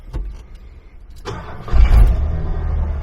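An older Ford OBS truck engine is started: a few clicks and a brief whir, then the starter cranks and the engine catches and settles into a loud, steady idle close by.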